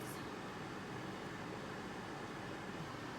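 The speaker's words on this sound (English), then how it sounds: "So the noise you hear is from the air fryer." A steady, featureless whirring hum of an air fryer fan running while cooking sockeye salmon, constant and fairly quiet throughout.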